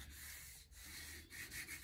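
A hand tool rubs a small sheet of paper onto a gelli printing plate, giving soft continuous scraping and rubbing strokes, quiet and close, with no talk.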